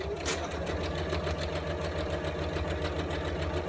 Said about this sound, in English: Just going to line up the edge of my presser foot with the edge of the fabric and back tack at either end and do a straight line.